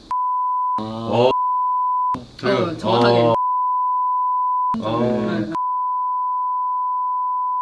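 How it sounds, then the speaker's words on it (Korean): Continuous censor beep tone runs through most of the stretch, steady and loud, broken by short bursts of Korean talk that briefly replace it. "계속 삐삐삐삐 해야 되니까."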